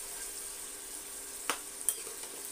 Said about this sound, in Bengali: এবার একটু এটা ভালোভাবে কষিয়ে নেব